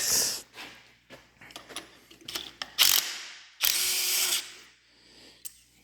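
Ratchet socket wrench clicking while a spark plug is removed from a 2013 third-generation Toyota Prius, a series of sharp close ratcheting bursts with short pauses between them.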